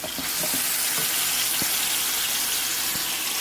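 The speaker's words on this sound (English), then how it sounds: "ground pepper, the Himalayan salt, garlic. I'm gonna basically saute that." Pepper, Himalayan salt and garlic sautéing in a pan, a dense continuous sizzle with a few faint clicks and knocks, close and steady.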